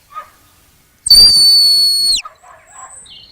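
A sheepdog training whistle gives one loud, sustained high note of about a second that bends downward at the end, with faint background sounds before and after.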